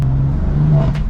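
A car engine idles and blips with a steady low drone close by, a brief rev rising near the end, no talking.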